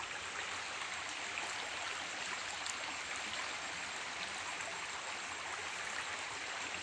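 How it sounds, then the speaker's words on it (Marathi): A hillside stream swollen with mountain runoff after a night of rain rushes steadily through a quiet village landscape, a constant close gurgling roar with no voices. "किती सुंदर पाणी वाहतंय."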